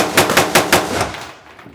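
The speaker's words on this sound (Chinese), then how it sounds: "这把呢也是一个 AR15 造型的枪，但是它用9毫米的手枪子弹，所以叫 AR9" Five rapid gunshots ring out from an AR15-style AR9 rifle firing 9mm pistol rounds at a shooting range in the United States. The loud, evenly spaced cracks are close by, and a short ringing decay follows the last shot.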